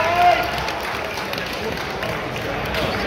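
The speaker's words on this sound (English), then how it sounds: "Let's give him a big round of applause." An outdoor festival crowd at Goatfest 2024 claps and cheers for a contestant about to attempt a chili pepper eating challenge, a steady, dense wash of applause and hubbub lasting throughout at moderate loudness.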